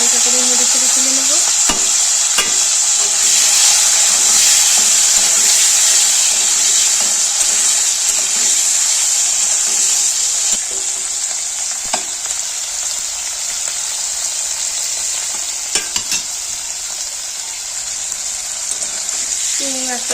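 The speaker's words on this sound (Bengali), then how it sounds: "নুন হলুদ মাখা চিংড়ি মাছগুলো তেলের মধ্যে দিয়ে একটুখানি ভেজে নেব" Salt-and-turmeric-coated prawns fry in hot oil, a steady loud sizzle and hiss running throughout, with occasional stirring clicks as the prawns are turned lightly in the pan.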